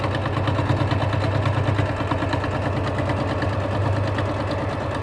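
A sewing machine stitches fabric down a seam, a steady close motor hum with a fast, even mechanical chatter running throughout without pause.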